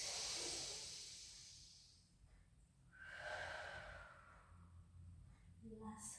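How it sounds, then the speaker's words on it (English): Slow, deep breaths during a pilates session, drawn in and let out audibly as soft hissing, close and quiet, with a faint voice in the background. "2 more deep breaths."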